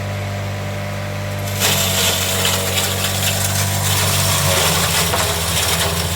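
A heavy electric crusher with a 6.5 kW copper-wound motor hums steadily under low mains voltage, then a loud grinding roar kicks in as it starts chewing through material, staying loud and continuous.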